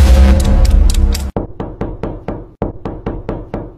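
A door is knocked on in a steady series of loud, sharp close raps, sounding after a stretch of louder, denser sound and continuing in short groups with brief pauses.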